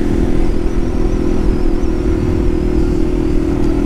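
Yamaha TW200 motorcycle riding along roads in Connecticut, a steady, loud engine drone with constant wind rush and no pauses or talk.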